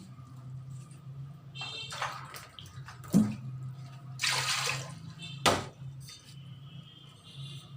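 Water poured from a glass into a pan for boiling jamun fruit to make jelly, a few splashy pours with clinks of glass against metal over a steady low kitchen hum, moderately close.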